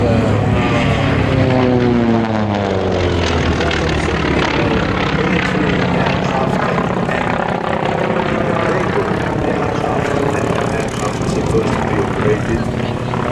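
A Grumman propeller aircraft flying at the Duxford airshow, a steady, loud piston engine drone with shifting pitch over a long stretch, heard under a commentator's continuous amplified talk.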